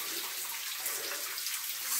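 Cold shower water pours steadily in a broad hiss, close and continuous with no break, as someone stands under it in winter.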